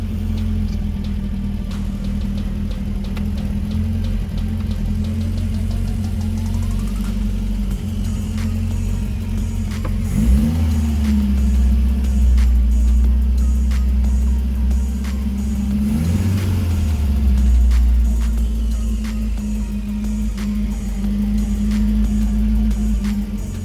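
A 1977 Vauxhall Cavalier Mk1 engine running rough after a new ignition coil and points, a steady low uneven idle with two brief revs blipping up around the middle and near the end.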